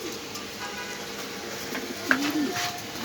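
Racer pigeons at a farm give a soft throaty coo near the end, set against a low steady background hum and faint rustling.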